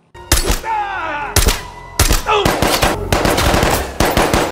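Loud, close bursts of rapid gunfire from a scene in the TV series The Terminal List, several volleys of shots cracking in quick succession with short pauses between them.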